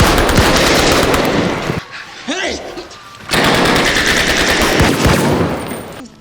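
Heavy automatic gunfire in a movie shootout with high school gunmen, loud sustained bursts that stop briefly for quieter rustling, then resume at full force.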